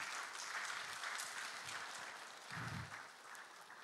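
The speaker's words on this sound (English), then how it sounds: "Please applaud Professor Eliso Sudabo." Audience applause at an e-learning week opening ceremony, a steady wash of many hands clapping throughout, with a brief low thump near the end and no voices over it.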